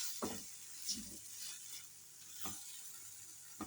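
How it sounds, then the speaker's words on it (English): Grated carrots fry in a pan with a soft, quiet sizzle, broken by a few brief stirring scrapes and clinks of a utensil against the pan. "Let's add our grated carrots"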